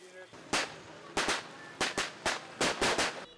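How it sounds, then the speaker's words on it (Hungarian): Firecrackers burst at a forest celebration in a rapid, uneven string of about nine loud, sharp cracks, some landing close together, heard nearby. "A szokás elmaradhatatlan része a petárda durrogás, a hangoskodás és a fegyverek is."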